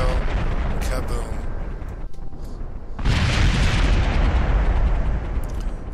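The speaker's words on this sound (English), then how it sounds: "5 minutes into the video, kaboom." A rover blows up in a video game with a loud, rumbling blast that fills the whole stretch, briefly dipping before a second surge of crackling roar, with no voices.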